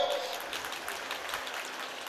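Audience clapping at a talk on irrigation and the filling of lake tanks: a dense, steady patter of many hands, moderately loud and continuous for the whole stretch.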